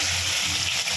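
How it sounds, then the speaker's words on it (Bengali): Pieces of hilsa fish lightly frying in a pan give off a steady, close sizzling hiss that lasts the whole short moment without a break. "কাঁচা করা যায়, বাট আমি একটু ভেজে নিচ্ছি"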